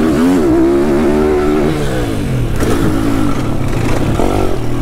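A motorcycle engine revs hard and loud in second gear, its pitch climbing steadily, then dropping and picking up again with a rough, throaty roar.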